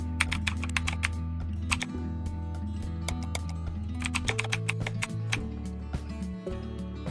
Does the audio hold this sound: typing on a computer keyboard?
yes